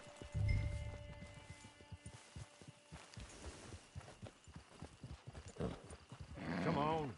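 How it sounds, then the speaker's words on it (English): Horse hooves clip-clopping in the Red Dead Redemption 2 video game, a steady walking rhythm mixed with a whinny and game sounds, with someone talking over it throughout. "Get your horse."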